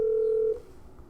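A telephone gives off a steady, single electronic tone for about half a second, then cuts off, leaving a quiet room with faint background hum.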